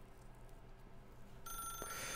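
Telephone ringing in the video game The Stanley Parable, a quiet room tone that suddenly gives way to a bright electronic ring near the end, close and clear.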